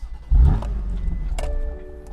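A short starter whir, then a 2018 BMW M4 Competition engine barks to life with a sharp rev and settles into a rumbling idle.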